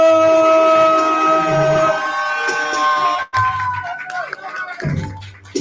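A commencement crowd cheers and whoops loudly for the next poet, a dense sustained roar that briefly dips before swelling again with scattered yells.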